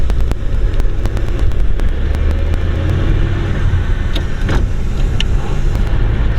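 A 1934 Dodge Brothers 5W Coupe pulls away in first gear, its engine rumbling loud and low with rattling clicks and clunks from the old car as it moves off.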